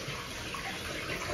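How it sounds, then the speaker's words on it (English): Hot water gushes steadily into a deep bathtub, a close, continuous rushing splash from the tap. "I'm setting up a hot bath"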